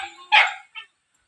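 Pet dogs kept by a goat pen let out one sharp, loud bark followed by a shorter, softer yip close by, then fall silent.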